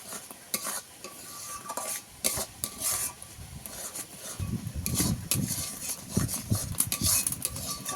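A spoon stirs mango pulp mixture in a pan with rapid, repeated scrapes and taps over a soft sizzle, growing busier and heavier midway; close and steady, no talking.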